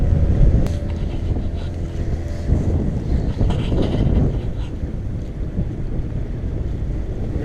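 Wind blowing across a sailboat at anchor: a steady, loud low rumble of gusts buffeting the microphone, with faint watery wash beneath and no talking.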